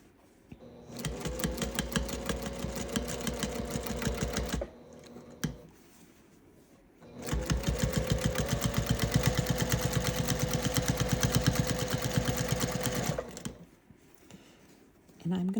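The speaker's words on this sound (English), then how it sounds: "Just going to stitch that down in place." A sewing machine stitches binding down along the edge of a quilted gift bag in two long runs of rapid, even clatter, with quiet pauses before, between and after.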